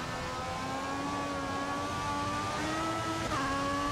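A Formula 1 car in the game F1 2014 accelerates out of the last corner, its high, steady engine whine climbing through the gears and running loud and continuous for the whole stretch.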